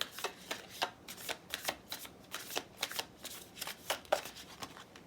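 Tarot cards shuffled and drawn by hand, a rapid run of crisp papery riffles and flicks repeating unevenly over several seconds, fairly close and quiet with no talking.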